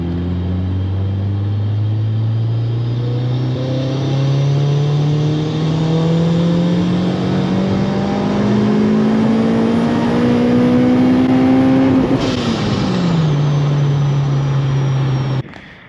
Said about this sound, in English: He wants a fourth gear pull from 2000 all the way to 8.